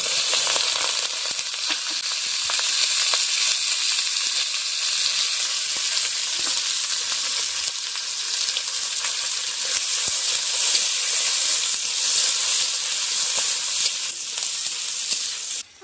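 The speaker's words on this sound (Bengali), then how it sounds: "আমরা পেঁয়াজটাকে এরকম লাল লাল করে ভেজে নেব।" Sliced onions fry in hot oil with whole garam masala, bay leaf and dried chilli, giving a steady, loud sizzle close by with faint stirring clicks and no talking.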